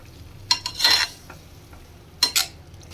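A spoon stirs yogurt into a pointed gourd curry in a pan: two short bursts of wet scraping and mixing against a quiet background.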